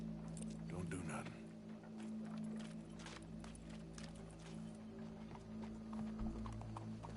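Horse hooves clip-clop in a PS4 video game, a steady, moderately close run of hoofbeats heard under ongoing talk and game sounds.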